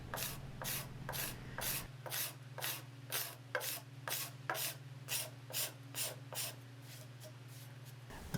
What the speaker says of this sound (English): I switch to a gooseneck scraper